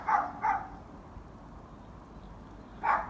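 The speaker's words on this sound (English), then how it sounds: "sounds like next door's dog's going mad" A neighbour's dog barks from next door, three muffled distant yaps, two close together at the start and one after a pause, faint against a quiet outdoor garden background.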